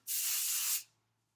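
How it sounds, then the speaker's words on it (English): A single short spritz from a spray can, a steady airy hiss lasting under a second, close and clear against near silence. "you just spritz it in a little bit"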